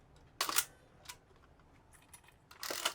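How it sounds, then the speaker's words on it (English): An IB67 camera's shutter fires twice, each a loud, close mechanical snap with a brief whirring release, separated by a pause that holds a softer click and faint handling noises. "Here's the shutter sounds for the IB67."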